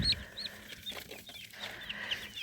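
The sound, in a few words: chicks clucking as they gather to feed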